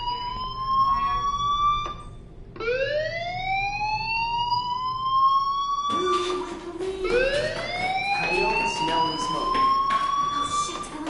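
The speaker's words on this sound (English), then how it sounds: "do you hear that fire alarm?" A school fire alarm in the game Life is Strange wails in repeated rising siren sweeps, cutting out briefly and restarting, fairly loud and steady throughout.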